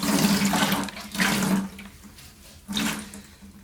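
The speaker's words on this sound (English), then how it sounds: "get the sponge nice and waterlogged, and then just take it over to your bucket, squeeze it out" Water wrung from a waterlogged sponge into a bucket while draining a toilet tank, heard as two bursts of splashing trickle with a pause between, fairly close and with no voices.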